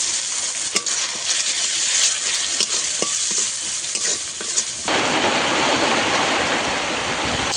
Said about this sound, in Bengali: মশলা ভালোভাবে কষানো হয়ে গেছে